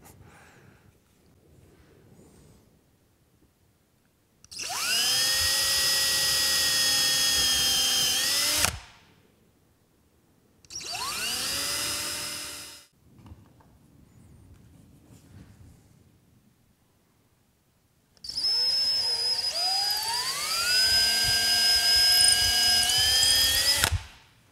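A power drill bores into wood on a homemade Christmas sled, three separate whining runs that spin up and bog down, the first and last several seconds long, the middle one short, close and loud with quiet gaps between.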